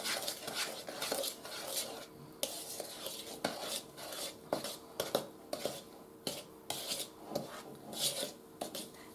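Cookie dough being stirred by hand in a bowl, with from-scratch ingredients like salt, a steady run of scraping, clinking strokes of spoon against bowl, close and fairly quiet, without talk.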